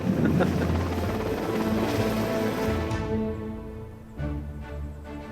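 A Sea King helicopter roars steadily nearby with a deep, churning rotor thrum, fading slightly before a closer burst of engine noise returns.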